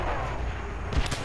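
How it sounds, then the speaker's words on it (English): Enemy artillery fire booms in a video game, a heavy low rumble that swells with a sharper blast near the end of the short burst. "Enemy artillery!"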